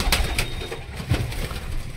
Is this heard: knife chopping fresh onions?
no